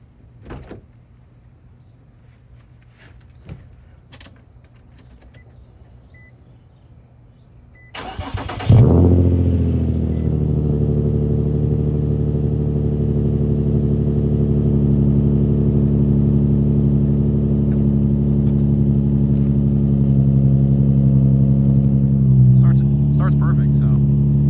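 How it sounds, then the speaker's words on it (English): A 2019 Chevrolet Colorado after sitting a week: quiet rustling and a door sound, then the starter cranks and the engine catches with a loud burst before settling into a steady, even idle drone. "I'm gonna do a cold start video. My car hasn't started in a week, so see how it starts."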